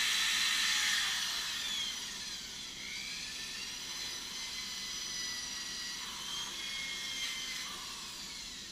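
A drill spins a brass wire wheel against a Jeep Cherokee cylinder head, making a steady, harsh, high-pitched whirring scrape up close, slightly louder at the start, with no talking.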